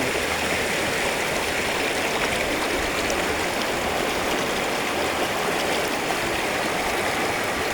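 A waterfall-fed river near Mumbai pours and splashes in a steady, dense roar, loud and unbroken from start to finish with no voices.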